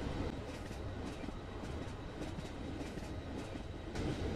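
Train rolling along a railroad in the video game Sands, a steady rumbling rail noise with faint rhythmic clatter running continuously throughout, no voices.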